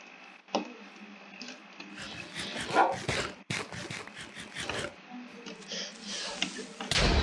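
Dog barks inside the Minecraft video game, a few short yips mixed with clicks and thumps, with voices talking over them throughout.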